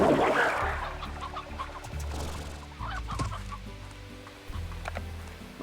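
Many chickens clucking in Slime Rancher, a busy flock of repeated short clucks and squawks close by, with a burst of brighter chatter at the start and steady low game ambience underneath.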